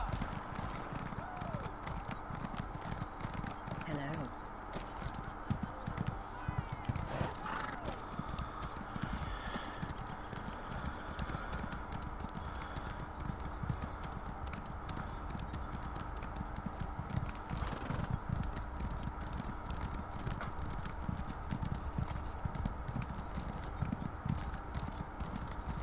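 A horse in Elder Scrolls Online trots with steady, rapid hoofbeats over a long stretch, close and moderately quiet, with someone talking over the riding.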